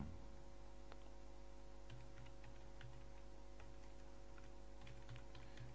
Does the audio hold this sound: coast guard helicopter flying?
no